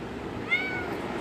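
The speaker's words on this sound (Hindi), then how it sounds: "ये देखो क्या म्याऊं करने में लगी हुई है।" A cat gives a single short, clear meow close by, rising and falling briefly against a quiet indoor background.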